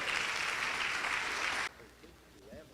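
Church congregation applause during a sermon, a dense burst of clapping from many hands that cuts off abruptly after under two seconds, followed by quiet room sound and faint voices.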